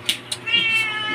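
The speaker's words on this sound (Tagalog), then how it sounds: "Pusa naman." A cat meows close by, with two short chirps followed by a drawn-out, wavering meow, heard alone without talk.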